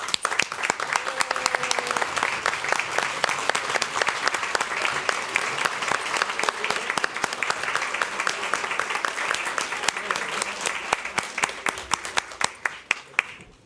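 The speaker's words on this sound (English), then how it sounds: "So I would really like all the parents to stand up so we can give you a round of applause." Sustained audience applause for parents at an elementary school district board meeting, dense steady clapping from a sizable crowd filling the room for about thirteen seconds before tapering off at the end.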